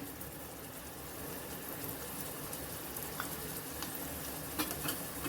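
Mustard seeds fry in hot oil with garlic, ginger, green chilli and curry leaves, a dense continuous sizzle close by with faint scattered pops and the odd stir, and no one talking.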